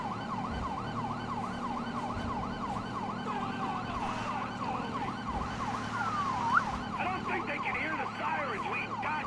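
Emergency vehicle sirens wail in Grand Theft Auto 5, a steady repeating up-and-down siren cycle running loud and continuous over engine and traffic rumble, with a brief higher sweep near the middle.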